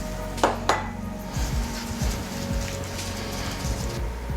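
Peaches go into a pan of melted butter over low-medium heat: two sharp metallic clanks open, then soft scattered thuds and scraping against the pan, fairly close, with no talk.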